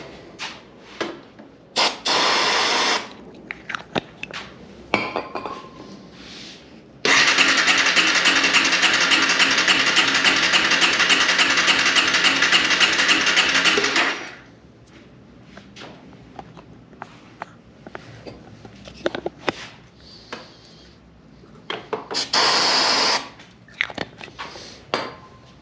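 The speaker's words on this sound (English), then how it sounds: "I'm gonna give it a little help with starter fluid to get it going." Starter fluid sprayed in a long continuous hiss into the engine of a 2011 Honda CBR250R, loud and close for several seconds, with clanks and handling noises before and after, plus a couple of shorter bursts.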